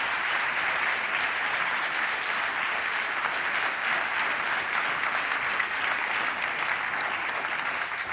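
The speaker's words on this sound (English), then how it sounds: "Please, a big round of applause for Camilo Espeleta." Sustained applause from a large audience at the FIM MotoGP Awards 2021 ceremony, a steady, dense wash of clapping that holds evenly for the full stretch with no pauses.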